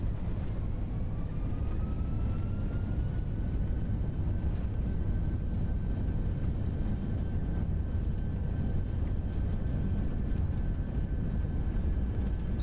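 Etihad airliner decelerating on the runway after landing at Queen Alia International, a steady loud roar of reverse thrust with broadband rumble and a rising engine whine, continuous throughout with no talk.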